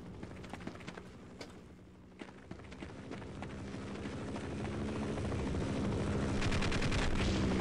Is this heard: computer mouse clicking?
no